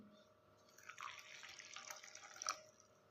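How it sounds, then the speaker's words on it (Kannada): Water pours and splashes into a mixer jar of ground peanut chutney powder for a few seconds, quiet and close, with no talking. "ಇವಾಗ ನೀರು ಹಾಕ್ಕೊಳತ್ತೀನಿ"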